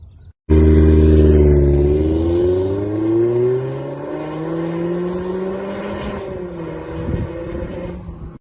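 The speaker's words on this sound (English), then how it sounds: "we were able to add the Tom's Racing exhaust. It sounds great, it sounds amazing. Here's a clip of it." A 2019 Toyota Corolla Hatchback fitted with a TOM'S Racing exhaust revs up loudly and close by, its engine note climbing in a single rising sweep before settling into a steady, slowly falling drone.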